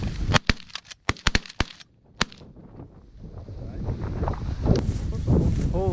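Shotgun blasts ring out at ducks over a corn field, a quick volley of about eight sharp, loud reports in the first two seconds, followed by wind buffeting the microphone and people talking.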